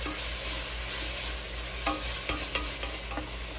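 Spices being stirred in a pan for Cuban black bean stew, a steady low sizzle with a few soft scraping taps of the spoon near the end, close and fairly quiet with no talking.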